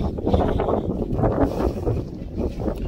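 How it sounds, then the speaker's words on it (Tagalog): Strong wind buffets the microphone on a foggy mountain summit before dawn, a loud, constant low roar with gusty swells and no voices. "ang lakas ng fog, ang lakas ng hangin, and sobrang foggy"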